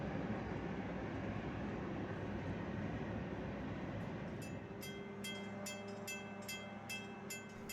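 A train rumbles steadily past near the Calumet River lift bridge in Chicago, a broad continuous roar that later gives way to rhythmic clacking of wheels over rail joints, moderately distant.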